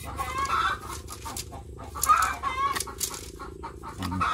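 Laying hens cluck in short, repeated bursts close by on a rural farm, with some louder squawks and a brief fowl call near the end over low background hum.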